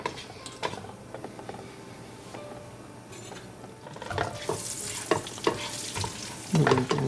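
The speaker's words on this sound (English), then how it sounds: "I'm going to mix it well with our desi ghee." A spoon scrapes and stirs almond flour and semolina through desi ghee in a pan over low heat. The scraping is soft and intermittent, with faint sizzling, and grows busier and louder toward the end.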